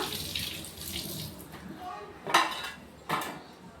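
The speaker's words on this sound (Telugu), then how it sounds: "ఆ బెండకాయలు అయితే కడిగేసుకొని కట్ చేసుకుంటాను" Tap water runs and splashes as okra is rinsed in a kitchen sink, a steady wash with two sharper bursts of splashing and clattering near the end.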